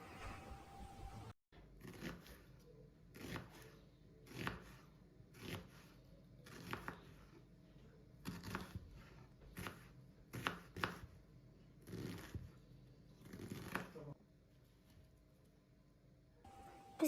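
Knife chopping onion into small pieces for a Kazakh sweet dish, about a dozen crisp, evenly spaced chops on a board, close and clear, with no talking.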